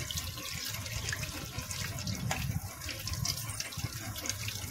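Water runs and splashes continuously from a tap as chillies are rinsed under it, close and steady.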